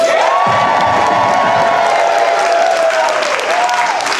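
A New York comedy-show crowd roars with cheers, whistles and whoops over steady applause for comedian Ariel Elias, loud and continuous throughout.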